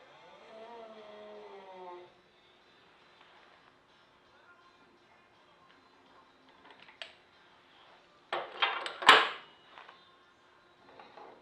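A compressed shock spring on a transmission input shaft is let go: a brief voice at the start, a long quiet pause, then a close rattling metallic burst ending in one sharp, loud clack.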